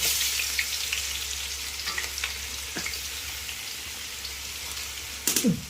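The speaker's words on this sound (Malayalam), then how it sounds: "കടുവ് കൂട്ടി എണ്ണയിലേക്ക് ഇടുക." Oil crackles and sizzles steadily as mustard seeds pop in a hot pan, with a sharper burst of spattering near the end.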